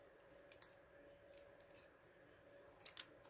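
Scissors snip paper scraps for an origami box in short, crisp clicks, a pair at the start and another pair at the end, close and quiet against a faint steady hum.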